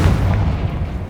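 A close, loud, booming blast from the Confringo spell in Hogwarts Legacy, a heavy low explosive thud with a rumbling tail, brief and percussive.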